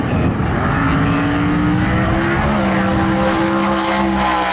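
A naturally aspirated modified altered drag race car tears down the strip in Australia, a loud, steady, high-revving engine roar with a rising tone, close and sustained with no talk.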